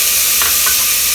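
Green chilies and tomatoes sizzling in a hot pan for Indian dal fry, a loud, close, continuous frying hiss with a couple of brief stirring scrapes and no voices.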